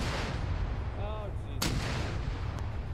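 Artillery rounds in a military video game, smoke rounds followed by high-explosive test shells, give a steady rumbling barrage with one sharp close blast partway through and a fainter thud later, while a voice speaks briefly over it.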